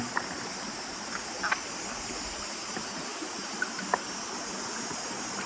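Steady flowing water of the Kerangan river in Baram, Malaysia, fills the clip with a constant rushing hiss, with a few faint clicks and splashes scattered over it.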